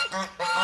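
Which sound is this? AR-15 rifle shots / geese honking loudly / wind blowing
geese honking loudly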